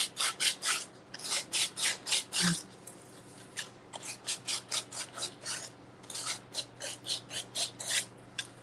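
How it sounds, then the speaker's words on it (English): Sandpaper rubbed over a small craft piece: close, rhythmic back-and-forth rasping strokes, about twenty in all, with a brief pause partway through. "It's going to have to be sanded off."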